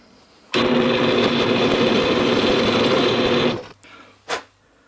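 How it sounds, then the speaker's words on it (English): A power drill whirs loudly for about three seconds, then cuts off, followed by a couple of short clunks and a brief whir. "So let's drill this and hope for the best"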